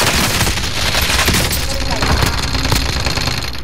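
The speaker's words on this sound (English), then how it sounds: "Somebody shooting at me." Rapid automatic gunfire in Call of Duty: Modern Warfare, loud dense bursts of shots over engine rumble, with a voice talking over the shooting.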